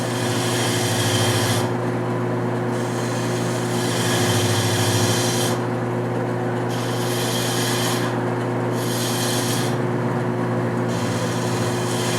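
Cherry table leg being turned on a wood lathe with a spindle gouge, a loud, continuous motor hum under a harsh scraping cut that swells and eases as the tool passes along the wood.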